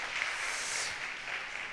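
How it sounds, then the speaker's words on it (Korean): Applause from a church congregation at a Sunday young-adults worship service, a steady wash of many hands clapping at moderate distance, continuous for a couple of seconds without voices. "들어갈 때 다시 한번 박수로 안내 축하하시면 되겠고요"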